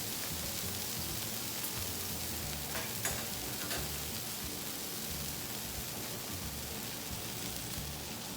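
A venison roast sears in olive oil with seasoned salt, a steady close hiss and crackle of hot fat that holds even throughout, with a couple of faint clinks partway.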